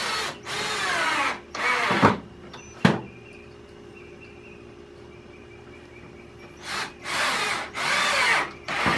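Power drill driving two screws into a wooden shelf board set against a filing cabinet, with several loud, close whirring bursts at the start and again near the end, separated by a quieter pause with a sharp knock.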